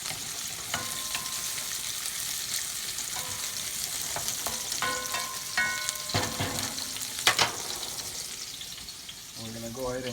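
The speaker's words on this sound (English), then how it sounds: "we're gonna get this over here a quick stir" Saltfish rundown getting a quick stir in a pot, with a soft sizzle and clinks and scrapes of a utensil against the pot, fairly quiet, a faint voice briefly under it and no other talk.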